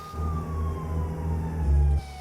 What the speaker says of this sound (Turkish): Bir sirenlerimizi açalım.